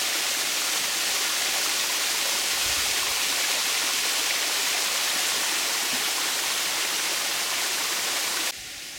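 Steady rushing and splashing of a garden water feature at a wedding venue on St. Lucia, a constant broadband wash of flowing water up close, cutting off abruptly at the end.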